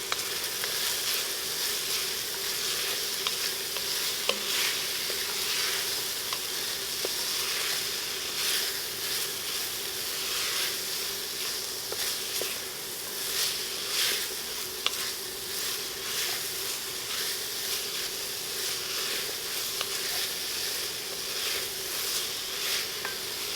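Carrots stir-fried in a pan for spicy egg noodles with chicken and vegetables, a constant soft sizzle and hiss with faint flickering pops, fairly quiet and even throughout, no voices.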